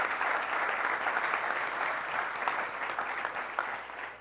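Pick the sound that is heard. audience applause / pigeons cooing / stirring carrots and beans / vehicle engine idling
audience applause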